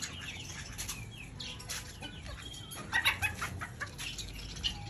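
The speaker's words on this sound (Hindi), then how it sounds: "वाह उमर तुमसे मुर्गी नहीं पकड़ी जा रही।" Bantam hens clucking, squawking and flapping their wings as they are caught, with busy bursts of fluttering and agitated calls against a steady background hiss.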